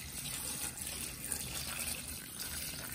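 Vinegar is poured into a container holding dresser handles, a steady close splashing and trickling stream that runs without a break and with no talk.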